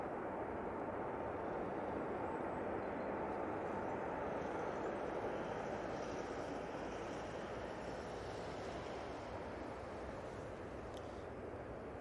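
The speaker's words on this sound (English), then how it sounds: "Virgin on the roll." Virgin Airbus A330 on its takeoff roll at Manchester Airport, a faint, steady, broad jet rumble heard from a distance and holding constant throughout, with no voices.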